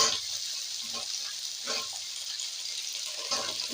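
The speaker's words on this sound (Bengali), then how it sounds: "আলু আর গাজরকে একটু ভেজে নিচ্ছি বন্ধুরা।" Potatoes and carrots, then beans, sizzle and fry in hot oil in a pan, a steady close crackle with a few louder stirring bursts and no talk.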